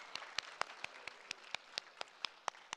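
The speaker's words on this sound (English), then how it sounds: "Let's get a clap for that." Faint, sparse clapping from a small audience at a GirlPower event: a steady run of evenly spaced, separate claps that stays thin and quiet throughout.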